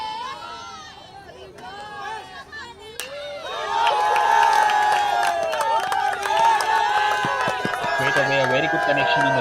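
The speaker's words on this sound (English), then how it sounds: "loud cheers in the crowd in the Punjab dugout" Crowd noise from a Punjab dugout at a senior national baseball championship game, swelling from scattered chatter into loud, sustained cheering and shouting that carries through the second half.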